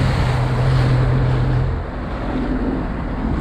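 A 2012 Sea-Doo RXP-X 260 personal watercraft runs over open water, its steady engine drone mixed with heavy wind and water rush, loud and continuous with a slight dip partway through.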